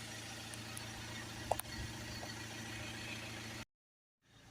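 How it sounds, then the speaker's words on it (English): A Ford Transit MK7 van with a 2.2 diesel engine idles during DPF cleaning: a steady low mechanical hum with a faint click partway through, then it cuts to near silence briefly before resuming. "let the vehicle idle"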